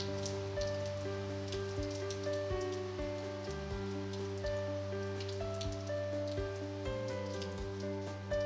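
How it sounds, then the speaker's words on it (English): Rain falls on farmland as a soft, steady patter of drops, heard faintly under a layer of sustained musical tones with no speech. "Let's examine what happens to the rain that falls on farmland."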